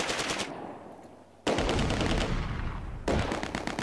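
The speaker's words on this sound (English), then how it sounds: "we'll get our sniper deployed against that machine gun" Machine gun fire in the Close Combat wartime strategy game, loud sustained bursts of rapid shots that stop briefly and start again.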